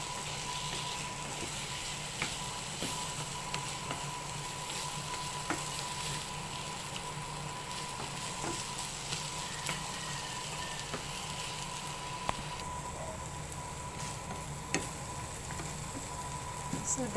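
An egg frying in a pan for a corned beef meal, giving a steady, quiet sizzle and crackle throughout with small pops and no talk over it.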